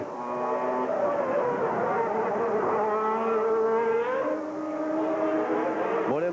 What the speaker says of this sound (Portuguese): Você viu que ficou de lado ali na chicane o carro de Senna